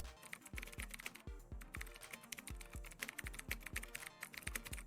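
Someone typing a prompt on a computer keyboard, rapid continuous key clicks at close range, steady and fairly quiet with no voices.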